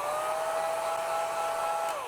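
A hair dryer dries a wet-in-wet watercolor painting of an autumn forest, giving a steady, loud, continuous whir with a faint whine that holds unchanged for the whole stretch with no talking.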